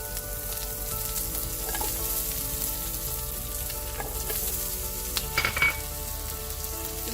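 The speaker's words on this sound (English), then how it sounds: "We're going to start sauteing or caramelizing our onions." Onions sautéing in melted butter in a pan give a steady, close sizzle and crackle throughout, with a few soft stirring scrapes near the end and no voices.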